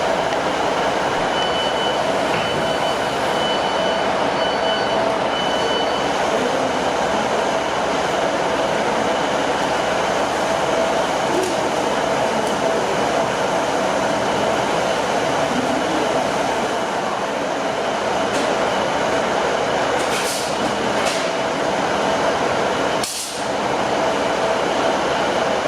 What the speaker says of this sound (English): The driver will reverse it off into the yard and bed it down for the night.